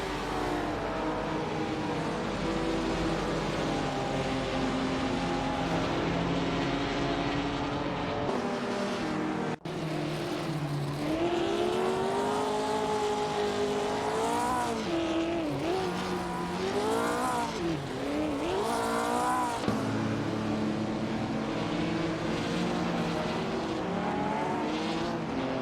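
In a racing video game, 1950s sports cars driven by AI hum and rev in a dense pack, pitch swooping as they accelerate and pass, with a brief tire squeal and a steady roar.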